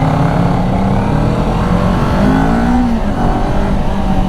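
Kawasaki Ninja 400 parallel-twin motorcycle engine under way, a loud, continuous buzzing drone with a slight rise in pitch mid-ride, heard up close with wind noise and no talking.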